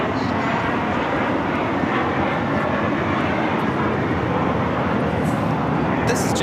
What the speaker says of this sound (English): This is JetBlue Airways flight 100 taking off to Fort Lauderdale on the A321.